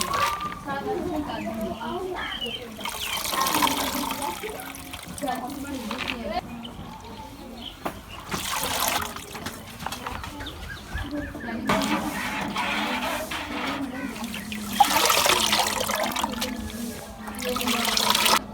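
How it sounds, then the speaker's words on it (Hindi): Spinach greens rinsed under open running water, with splashing and trickling bursts coming and going while someone talks over them throughout. "इसे भी हम खुले पानी से धोएंगे ताकि इनमें जो मिट्टी है वो आसानी से निकल जाए।"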